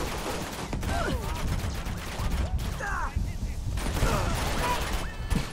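Bursts of gunfire and explosions from the video game Uncharted, part of the Nathan Drake Collection. Rapid shots, mechanical clatter and a few heavy blasts run through the clip, mixed with game voices.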